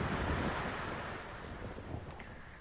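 Sea waves washing against a coastal erosion-protection embankment, a continuous broadband rush of surf mixed with wind buffeting on the microphone, steady and fairly loud with no voices.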